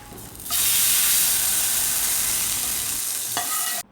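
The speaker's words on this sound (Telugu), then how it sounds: "ఇప్పుడు తాలింపుని రసంలోకి యాడ్ చేసుకుందాం" A loud burst of hot oil sizzling as tempering is poured into tomato rasam, a sustained hiss that fades slightly before cutting off.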